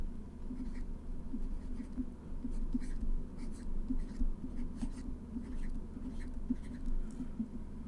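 Marker or chalk writing a table column on a board during a maths lecture, steady faint scratchy strokes repeating through the clip over a low room hum.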